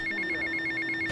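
A phone rings in Grand Theft Auto Vice City, a steady electronic trill pulsing rapidly and evenly through the whole moment, clear and close with nothing else over it.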